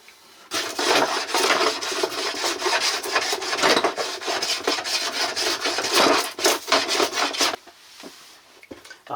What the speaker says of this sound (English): I'm literally just rounding off this sharp edge